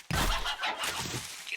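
A chicken in the video game 7 Days to Die lets out a sudden loud, squawking cluck followed by a short agitated flurry, close and brief with no talking.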